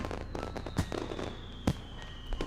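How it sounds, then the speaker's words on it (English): Fireworks burst overhead in the Katawa Shoujo video game, with three sharp cracks standing out over a steady background bed at moderate loudness. "Hanako's gaze still firmly fixed on the Technicolor fireworks bursting overhead"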